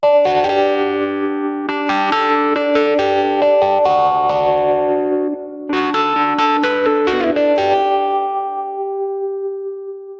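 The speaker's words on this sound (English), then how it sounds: "Dial up the drive, then mix in a slow-moving phaser, pinch of analog model delay, dollop of reverb" A keyboard played through a guitar pickup rings out with heavy drive, a slow sweeping phaser, analog-style delay and reverb, sounding as chords and melodic runs with a brief pause midway and lush sustained tails.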